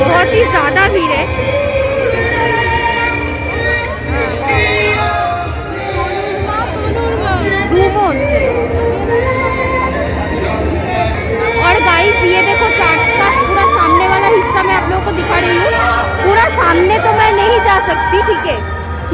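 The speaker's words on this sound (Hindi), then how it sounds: "बहुत ही ज्यादा भीड़ है आप देख सकते हो" Large, dense crowd chattering at the decorated Ranaghat church at Christmas, with continuous close hubbub of many voices and music in the background, a nearby voice talking over it.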